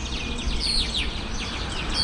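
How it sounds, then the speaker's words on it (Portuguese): Birds chirping and twittering amid city traffic in Lima, Peru, a busy chorus of quick, high calls over a low urban hum. "escuta os pássaros aqui, ó."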